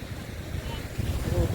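Sea waves and wind on the beach at Cox's Bazar, the world's longest sea beach, a steady low rumble of surf with gusty wind buffeting the microphone, swelling louder toward the end.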